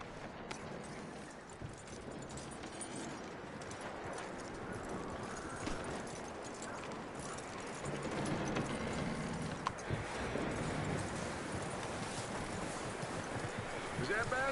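Horse hooves clip-clop steadily through a Red Dead Redemption 2 game scene, mid-distance and fairly continuous, mixed with ambient outdoor wash like running water and occasional background voices.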